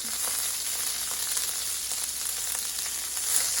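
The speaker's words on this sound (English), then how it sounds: "we're going to add some grease to the pan and let that melt completely" Grease melts and crackles in a really hot pan, a steady bright sizzle with fine scattered pops running unbroken throughout, close and fairly loud, no voices.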